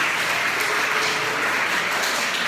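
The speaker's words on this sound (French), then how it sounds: "Je peux vous applaudir." A large audience claps together in a dense, steady wash of applause that holds at an even level throughout.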